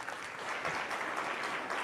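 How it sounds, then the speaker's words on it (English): An audience at a startup and investor event gives the panelists a brief round of even, steady applause that sounds fairly distant and quiet. "Can we have a round of applause for our panelists"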